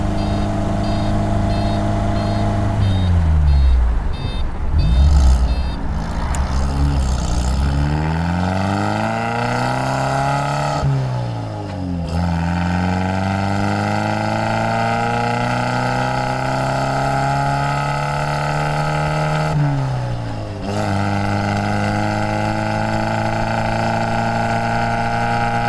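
The engine of a 1952 MG TD right-hand-drive export model runs close and loud, its pitch sweeping down and up through several smooth revs before settling into a steady idle.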